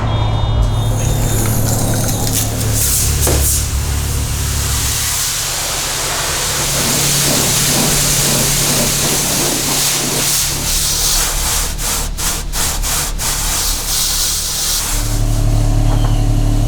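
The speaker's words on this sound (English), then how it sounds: "So I'm gonna wash this van" A van gets spray washed at a car wash in Sioux Falls, a loud, steady hissing rush of high-pressure water that shifts and pauses as the wand moves, with a machine hum beneath and no talk.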